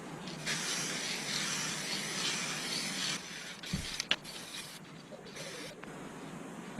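Spray paint hisses steadily onto a Moto Guzzi V7 underseat guard in a continuous broadband wash, with brief pauses and a few small clicks and knocks near the end; no one talks.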